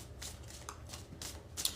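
Deck of tarot cards being shuffled by hand, quiet riffling bursts in a loose rhythm, several short flurries of soft flapping card edges up close, with no talk.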